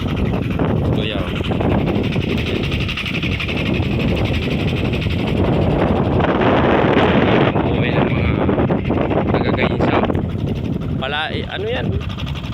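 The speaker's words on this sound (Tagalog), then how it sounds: "Mahangin dito guys." Wind gusting across an open rice field near a running water pump in Gainza, Camarines Sur, a loud continuous rush buffeting the microphone, with someone talking over it now and then.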